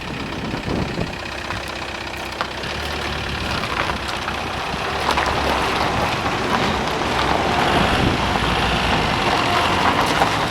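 A diesel car, earlier hard to start, low on power and very smoky, is driven, giving a rough, knocking engine clatter under broad road and cabin noise that swells gradually as it picks up pace.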